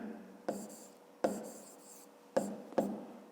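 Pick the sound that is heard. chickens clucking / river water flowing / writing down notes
writing down notes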